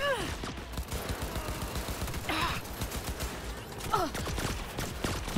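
Rapid bursts of drone gunfire rattle through a firefight in the video game Cyberpunk 2077, dense clattering shots with a few sharper whizzing effects, under a player's occasional talk and game noise.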